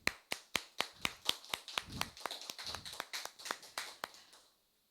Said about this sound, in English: Everyone with a big round of applause.